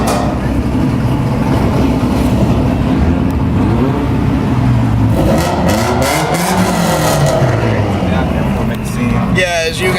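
Several cars rev and rumble as they roll out of a gas station, a loud, close, continuous engine drone with rising revs toward the end.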